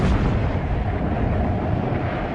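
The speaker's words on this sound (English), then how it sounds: "The bombers, flying low to drop their load, came under increasingly heavy anti-aircraft fire." Heavy World War I anti-aircraft gunfire aimed at low-flying bombers, a dense continuous roar of booms and blasts that stays loud and rumbling throughout with no voices.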